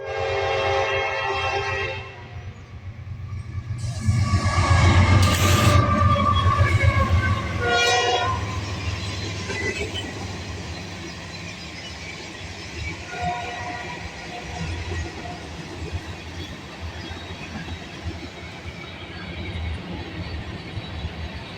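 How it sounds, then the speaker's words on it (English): A Norfolk Southern sand train with a Union Pacific unit trailing second flies past at speed, horn blaring loudly near the start, followed by a sustained roar and rattle of passing cars fading gradually. "Here comes an NS sand train with a UP trailing second"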